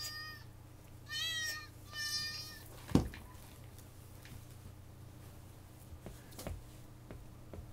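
An indoor cat meows several times close by in quick drawn-out calls, followed by a single sharp thud and then a quiet room.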